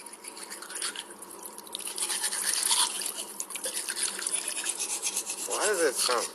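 Brushing with a toothbrush in a horror video game gives a wet, scratchy rhythmic scrubbing that continues throughout, with a brief voice near the end.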